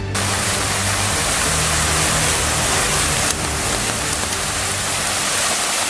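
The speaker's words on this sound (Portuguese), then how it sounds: "O rio Pirapó, que abastece a cidade Canção, subiu vários metros e inundou a estação de captação de água" The Pirapó river rushes in flood after heavy rain, a loud, dense, continuous roar of churning water that fills the whole clip without pause, with no voices.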